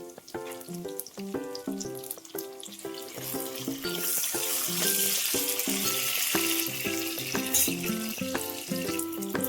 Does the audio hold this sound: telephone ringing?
no